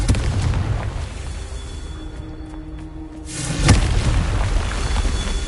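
A Confringo fire spell detonates in Hogwarts Legacy, a heavy booming explosion landing after a quieter stretch of game ambience, with rumble continuing afterward.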